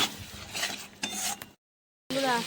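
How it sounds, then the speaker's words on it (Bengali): Spice paste being sautéed in a pan gives close scraping, stirring and clinking noises of a utensil against metal. A short silent gap comes before the stirring resumes. "এখন মশলাটা সুন্দর করে কষিয়ে নিতে হবে"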